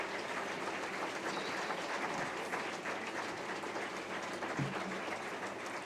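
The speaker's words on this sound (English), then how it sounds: "And this applause is for you." Steady, even applause from an audience at a political symposium on democracy and feminism fills the whole stretch, fairly distant and soft, with no voices rising above it.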